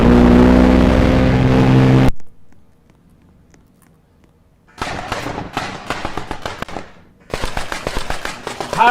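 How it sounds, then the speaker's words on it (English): Video game gunfire aimed at the player, rapid cracking volleys of shots in two dense bursts after a stretch of near silence, following a loud engine-like roar at the start; no talk. "How is everybody shooting at me?"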